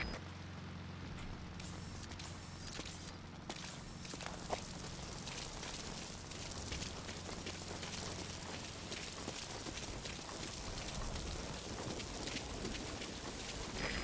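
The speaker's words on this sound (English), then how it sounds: "That rain just won't let up." Steady rain pours in the Metal Gear Solid V: Ground Zeroes video game, a constant even hiss with faint footstep-like taps and brief clicks mixed in, and no talking.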